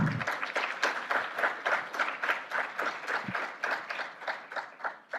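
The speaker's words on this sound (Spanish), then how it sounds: "démosles un fuerte aplauso al doctor Enrique Cáceres Nieto" Applause greets Dr. Enrique Cáceres Nieto at an academic lecture, a modest group clapping in a fairly steady, rhythmic pattern, moderately quiet and heard alone.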